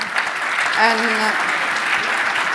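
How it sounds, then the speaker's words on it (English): A conference audience applauds a panel speaker on stage at a transport net-zero talk, a soft, even wash of clapping that runs throughout while a voice briefly speaks over it. "An applause for her"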